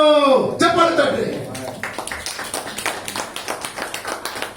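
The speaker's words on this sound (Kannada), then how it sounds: "ಚಪ್ಪಾಳೆ ತಟ್ರಿ." Members of a Kannada-language Sunday worship congregation at a Nazarene church clap in a quick, steady rhythm. It starts after a spoken phrase and continues as evenly spaced claps that slowly fade.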